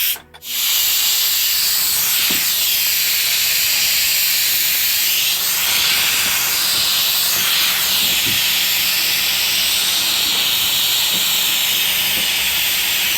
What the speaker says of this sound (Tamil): அதுக்கு முன்னாடி நம்ம குக்கரில் ப்ரெஷர் எடுக்கணும்.